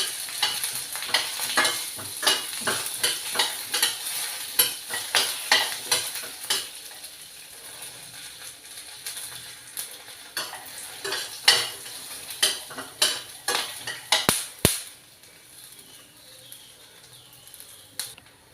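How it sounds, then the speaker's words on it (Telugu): Peanuts roasting in a pan for tomato coriander chutney rattle and tick in quick irregular bursts as they are stirred, close and crisp over a faint low sizzle, with a couple of sharper clicks near the end. "పల్లీలు వేగిపోయాయి"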